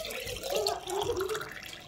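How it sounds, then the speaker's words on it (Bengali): Water pours and trickles steadily into a flask for a couple of seconds, a soft close liquid gurgle in a quiet home. "দাঁড়া দাঁড়া দাঁড়া, জল পড়বে।"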